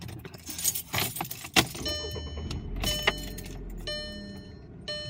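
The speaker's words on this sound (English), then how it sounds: "So here I go in my car." A car heard up close from inside and around it, with a door thump, keys jangling and shifting movement, then the vehicle starting off, a steady low rumble building under the handling noises, no talk.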